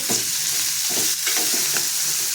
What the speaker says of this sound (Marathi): हलक्या हाताने असं ते रुंद करून तेलावरती दोन मिनटं परतून घ्यायचं